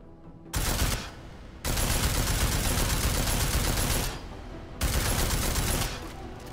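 Combat rifle gunfire from Deus Ex: Mankind Divided, loud sustained bursts of automatic fire in two long volleys separated by brief pauses, with no talk over it.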